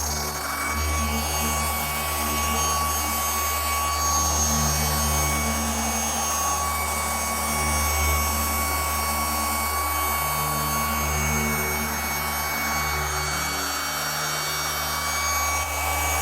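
A cordless polisher buffs car paint during auto detailing, a steady close motor whir with a low hum and a faint rubbing hiss that runs unbroken throughout.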